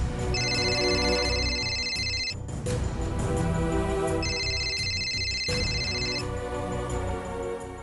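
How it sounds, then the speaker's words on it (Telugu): A phone rings in two electronic bursts separated by a pause, loud and close, over a steady background hum. "ఒకసారి రాముకి ఫోన్ చేస్తే"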